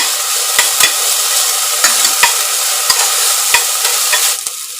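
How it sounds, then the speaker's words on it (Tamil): Sprouted fenugreek seeds are sautéed in oil in a pan, with a loud, continuous sizzle close by. Sharp ladle scrapes and taps from stirring break through at irregular intervals, and no one speaks. "இந்த வெந்தயத்தை எண்ணெயில் போட்டு நல்லா வதக்கிட்டு இருக்கேன்."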